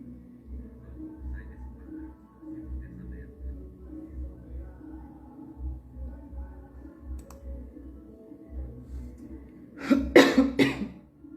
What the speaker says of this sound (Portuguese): Eu tirei essa tosse agora.